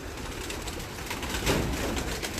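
Pigeons coo close by in a loft, soft rolling throaty calls overlapping against a steady hum of the surroundings, with no voices.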